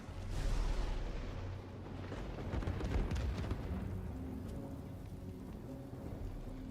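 Heavy rain falls in the fantasy role-playing game Divinity Original Sin 2, a dense steady hiss with a rumbling low undertone that swells early and then settles to an even wash.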